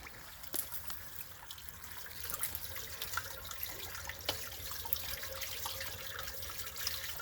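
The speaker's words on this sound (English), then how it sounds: "And this water's flowing in here." Floodwater from Parent's Creek runs into a drain pipe with a faint, steady trickle and gurgle, broken by a few small splashes, with no voices.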